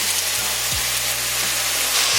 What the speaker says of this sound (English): Stir fry the beef and vegetables about 2 to 3 minutes, or the meat is fully cooked and the vegetables are softened.